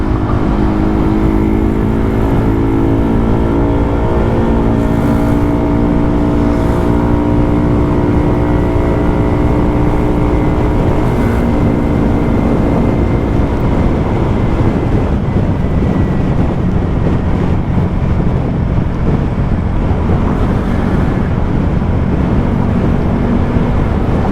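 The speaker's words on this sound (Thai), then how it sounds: "เสียงท่อพ่าเปิดผมเงียบไหม" A motorcycle fitted with NGK Laser Iridium SIMR8A9 spark plugs roars loudly and continuously through its exhaust, its engine pitch climbing as it revs, with wind buffeting the microphone throughout.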